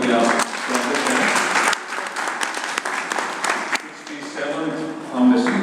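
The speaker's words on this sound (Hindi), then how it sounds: "तो सबसे पहले तो बहुत जोरदार ताली बजा करके आप स्वागत करें।" Loud, sustained applause from an audience at an arts academy's 67th foundation day ceremony, steady clapping throughout with a brief swell near the end and a few voices mixed in.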